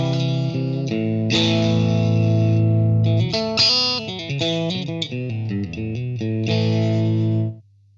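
Distorted electric guitar with heavy effects, played through a Shure GLXD16+ wireless system, plays a melodic phrase of sustained notes and quick runs, loud and steady, then stops abruptly near the end.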